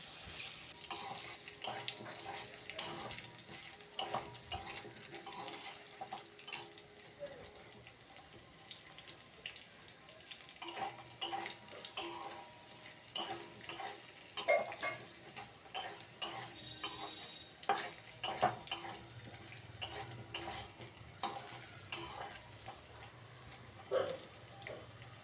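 Potatoes fry in hot oil in a pan while being turned and stirred, giving a soft continuous sizzle broken by frequent sharp scrapes and clinks of the spatula, close and steady over a long stretch with no talking.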